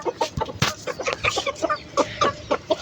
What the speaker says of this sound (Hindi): मुर्गियों ने अंडे तो दिए नहीं है।